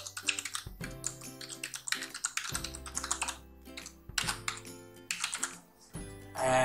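Computer keyboard typing while entering a username, password and email, in quick uneven bursts of clicking keys with brief pauses, close and moderately loud, with no talking.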